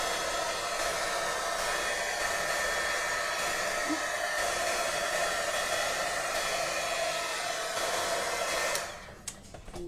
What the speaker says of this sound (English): that is a heat gun. It's not a hair dryer. It's a heat gun.